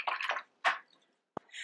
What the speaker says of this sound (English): I'm taking my brush, bringing it into the water, and actually putting a little water there